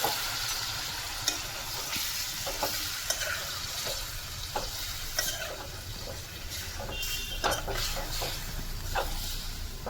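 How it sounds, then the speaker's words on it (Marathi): Chicken pieces fry in a pan with roasted onions, giving a steady sizzle with scattered stirring scrapes and clicks throughout, fairly close and even in level. "आता आपण आपलं चिकन घालून घेऊया."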